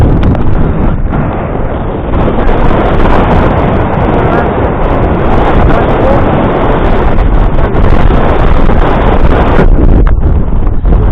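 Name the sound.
wind and flapping flag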